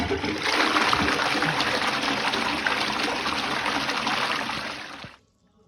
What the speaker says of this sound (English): Ray's in China, he's going to go to the bathroom and flush the toilet.